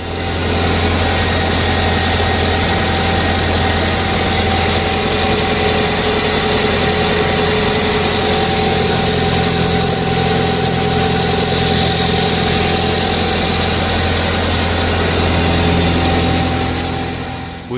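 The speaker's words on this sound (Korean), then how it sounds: "엔진 소리를 위해 자막 없이 진행되니 귀 기울여 들어주시기 바랍니다" A Hyundai Santa Fe Hybrid (MX5) 1.6T 4WD SUV engine idles with a low, even hum and faint higher whine, unchanging for the whole stretch with no voices.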